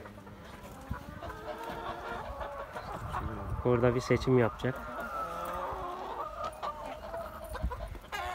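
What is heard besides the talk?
village chickens clucking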